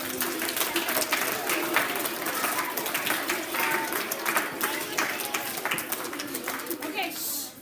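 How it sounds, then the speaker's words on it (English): Children and adults applaud together after a group song, a steady wash of clapping filling the room with light chatter mixed in, fading at the end. "Give yourselves a hand."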